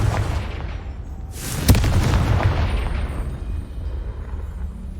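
A Confringo blasting spell explodes in the video game Hogwarts Legacy: a sharp crack followed by a loud, rumbling boom that slowly fades over several seconds.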